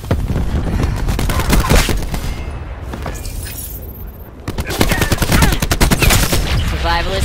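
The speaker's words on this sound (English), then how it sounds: "Cluster grenade." Cluster grenades going off in Black Ops 4, a rapid crackling string of explosive bursts that fades briefly at midpoint, then a second loud volley of rattling blasts.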